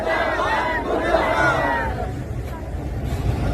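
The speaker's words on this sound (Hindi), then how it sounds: "नारे लग रहे थे इन सभी की जेल से बाहर रिहाई के" A protest crowd chants slogans calling for prisoners' release, a loud dense mass of voices in rhythmic unison that fades slightly toward the end, with general crowd noise beneath.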